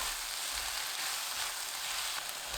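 Napa cabbage stir-fries with oyster sauce over medium heat, producing a soft, continuous sizzle that stays steady and fairly quiet throughout.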